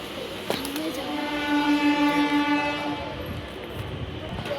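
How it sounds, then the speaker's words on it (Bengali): A train horn sounds a long, steady harmonic blast near a station on the Howrah line in West Bengal, over a rumbling background of rolling railcars, with some faint voices nearby. "ট্রেন যাচ্ছে"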